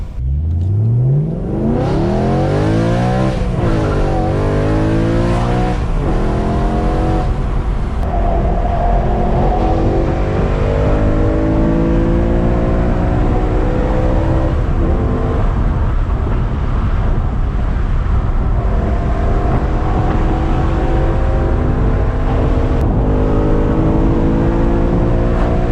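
A tuned BMW E90 M3 driven hard on a race track, heard from inside the car: the V8 climbs steeply through the revs, shifts and keeps pulling in long, loud sweeps, with wind roar throughout and no talking.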